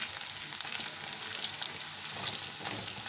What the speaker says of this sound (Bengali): আলুটার মধ্যে সামান্য একটু একবারে হাফ চামচ ময়দা দিয়ে ওটা মেখে আমি এটা এই নরম করে ভেজে নিচ্ছি।